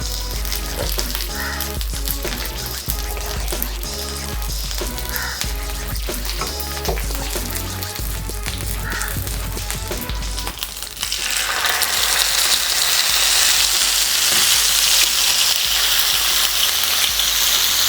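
Tilapia being grilled in a pan lined with leaves sizzles and fries loudly; rhythmic clicking and clattering come first, then the frying swells into a steady, bright hiss, close and without talk.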